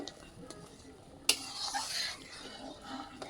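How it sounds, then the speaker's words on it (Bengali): A spiced curry of taro and small puti fish being stirred in a pan, giving a soft continuous sizzle with scraping strokes and one sharp utensil knock early on, fairly quiet throughout. "এখন ভালো করে এটা আবার নেড়ে নেব"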